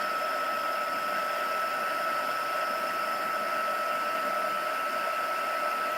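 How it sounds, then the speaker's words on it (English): A heat embossing tool blows hot air in a steady, even hiss with no pauses, close and moderately loud, while crafting Christmas doily bauble gift tags. "Let me heat it from underneath this time and see if that makes a difference."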